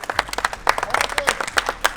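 A small group claps for contestants in a treadmill pool-falling challenge, with sparse, uneven handclaps close by and light voices underneath.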